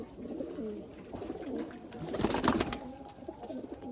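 Malwai pigeons brought from Punjab coo softly at close range in a sale loft near Dhamua station, with low repeated cooing over light background noise.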